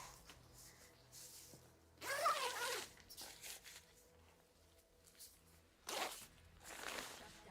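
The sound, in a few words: zipping up a backpack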